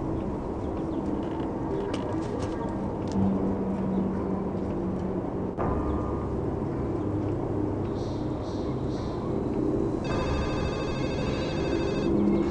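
A telephone rings in the 1996 PC video game Urban Runner, with repeated electronic ring bursts near the end over a steady low background hum, and no talk.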